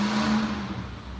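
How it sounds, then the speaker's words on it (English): Race cars at a drag track build revs for pulls in the distance behind a 3800 engine build, a steady engine whir and rising drone that holds for about a second, moderately loud with no talk over it. "I think they're getting ready to make some pulls out there."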